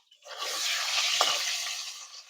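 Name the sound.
potatoes frying in oil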